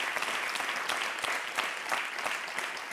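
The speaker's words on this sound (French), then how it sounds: "Merci de vous applaudir" A television studio audience on a talk show claps for the guests, a steady, moderately loud patter of many hands with individual claps audible, continuing throughout.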